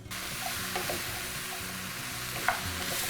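Vegetables sweating in a pot for sweet potato and lime soup, giving off a soft, steady sizzle and hiss with a couple of faint stirring clicks, close by and without talk.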